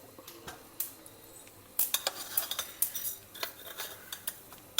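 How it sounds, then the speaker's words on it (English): Mustard seeds and peanuts crackle in hot oil in a pan, with sharp pops and clinks of a utensil scattered irregularly, growing busier after the first couple of seconds; no one speaks. "Next add in some mustard seeds."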